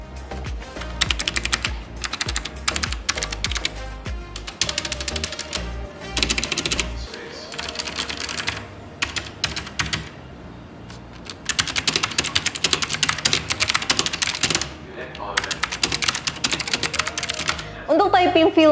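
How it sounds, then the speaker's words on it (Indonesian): Typing test on a Sades Frost Staff mechanical gaming keyboard, with dense, rapid key clacks in fast bursts and brief pauses, close and loud throughout. "Dan sekarang aku akan melakukan typing test dari Sades ProStaff ini."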